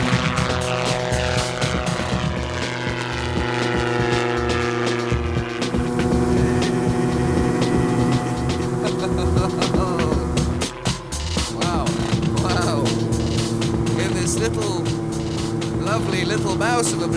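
Light autogyro flying, its engine driving both the overhead rotors and a rear pusher propeller, a loud steady droning hum with strong tonal harmonics and a close cockpit feel, with someone talking over it.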